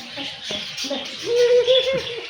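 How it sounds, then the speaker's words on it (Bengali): A baya weaver calls in a few short, tonal whistled notes amid a cluttered, busy background, moderately loud and close. "বাবুই পাখি নাকি?"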